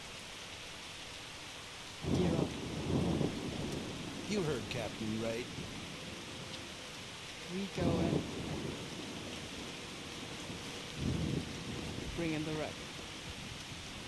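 Steady hiss of heavy rain in the video game Wanted: Dead persists throughout, with several voices speaking over it in short exchanges.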